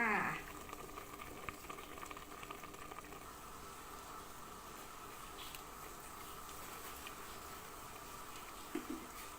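Shallots and garlic cook in a pan as a faint, steady bubbling simmer, quiet and continuous, with a short clatter at the start.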